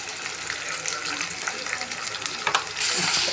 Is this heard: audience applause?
no